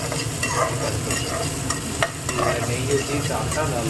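Curry leaves and dal sauté in a pan with a steady sizzle and repeated spoon scrapes, heard close and with no talking.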